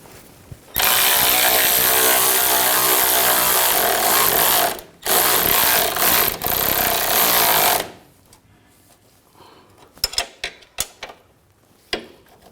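An impact wrench runs a nut onto a CV axle bracket on a 2000–2006 BMW X5 3.0L, loud continuous rattling in two long bursts with a brief pause, followed by scattered metallic clicks and taps.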